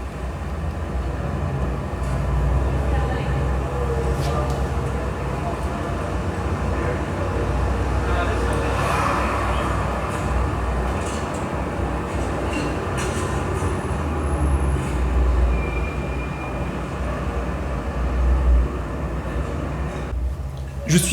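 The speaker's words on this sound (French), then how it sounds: "je mets une vidéo de quelqu'un qui roule dans Los Angeles et on a tous les bruits de la vie réelle" Street sounds from driving in Los Angeles play through a 3.1.2 Dolby Atmos soundbar: a continuous loud rumbling traffic wash with steady low roar and occasional brief higher tones, no speech.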